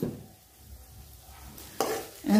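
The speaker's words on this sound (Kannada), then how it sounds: "ಈ ಕಾದಿರೋ ತುಪ್ಪಕ್ಕೆ ಕ್ರಷ್ ಮಾಡಿರೋ ಗೋಡಂಬಿ ಮತ್ತು ಬಾದಾಮ್ ಹಾಕ್ತಾ ಇದ್ದೀನಿ." Crushed cashews, almonds, raisins and grated coconut frying in hot ghee, a soft sizzle under stirring with a spoon in the pan, followed by two louder scraping stirs toward the end.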